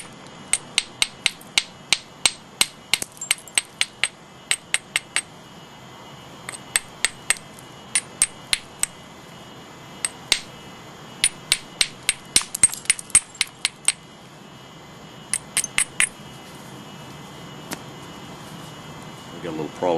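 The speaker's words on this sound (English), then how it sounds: "First I'll take a couple thinning flakes off over here, hitting well above the platform." A hammerstone strikes stone while knapping thinning flakes, hitting well above the platform: dozens of sharp, close clacks in quick rhythmic bursts with short pauses between runs, over faint background.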